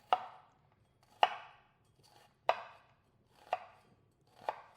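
Five separate knife chops through sweet onion on a cutting board, each a sharp crisp thud about a second apart, close and quiet with silence between.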